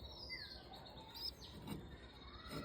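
A pigeon chick on a rooftop gives thin, high chirps that come and go quietly over a faint steady background, with no one talking.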